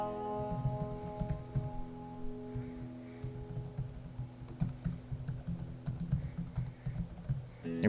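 Steady, close typing on a computer keyboard while filling in a sign-up form, quick irregular key clicks running throughout over a faint electronic hum, with no talking.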